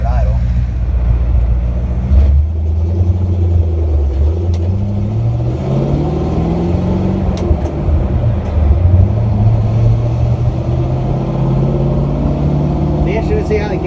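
A 1966 Chevrolet C10 pickup with a swapped engine idles and drives, its low engine drone rising and falling through gear changes, loud and close with a voice talking over it.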